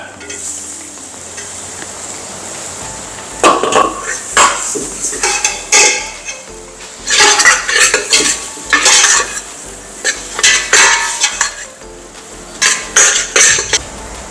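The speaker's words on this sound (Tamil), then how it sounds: "இப்போ பச்சை மிளகா போட போகிறேன் தக்காளி போட போகிறேன்" Green chillies and tomatoes going into a cooking pan while a goat-head curry is made, with repeated bursts of stirring and clattering spoon against the pot over a low sizzle, close by and with no speech.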